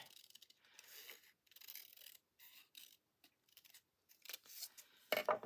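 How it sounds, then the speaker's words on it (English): Scissors cutting a leftover scrap piece of card, several close, quiet snipping and rasping strokes in uneven bursts with short pauses between them. "I had this leftover scrap piece, and I thought, well, let's just cut this down."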